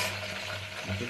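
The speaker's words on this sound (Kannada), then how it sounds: "ಮಿಕ್ಸ್ ಮಾಡ್ತಾ ಇದ್ದೀನಿ. ಆಮೇಲೆ ಈರುಳ್ಳಿ ಹಾಕ್ತಾ ಇದ್ದೀನಿ" Onions frying in a hot pan for egg biryani, a steady close sizzle with soft stirring scrapes running through the whole short moment, no voices.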